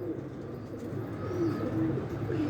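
Pigeons bred by a fancier coo continuously in a loft, a low steady murmur of several birds close by with no talk over it.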